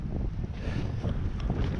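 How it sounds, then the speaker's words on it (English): Cold wind gusting across a snowy hiking trail between waterfalls, a constant low rumbling roar buffeting the microphone with no break, close and fairly loud. "But that wind is freezing."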